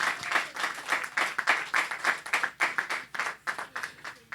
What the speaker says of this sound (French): a good applause to the Lord